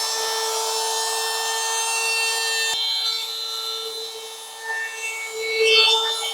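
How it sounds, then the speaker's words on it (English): Handheld router with a round-over bit easing the bottom edge of a wooden tray, a steady high-pitched motor whine with shifting cutting noise as the bit moves along the wood, close and alone. "use a handheld router with a round over bit and just do a quick round over on the bottom"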